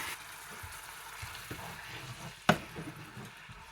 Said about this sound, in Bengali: এখানে আমি কোফতাগুলো এখন ঢেলে দেব।